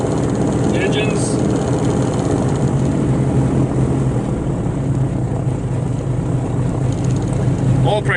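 Twin engines of an Aero Commander 520 aircraft run up after starting, propellers producing a steady, loud, droning roar heard from inside the cockpit, with brief faint voice sounds.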